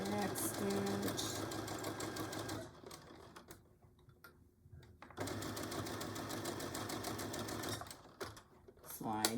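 A sewing machine back stitching a Betty Boop pillow cover, running in a steady rapid whir that pauses briefly midway before starting up again close by, with voices in the background.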